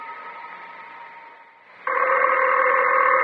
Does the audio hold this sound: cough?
no